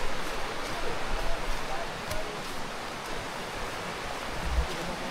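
Steady broadband rush of a river beside a forest hiking trail on the way to a mountain, continuous and fairly close, with faint voices now and then over the water.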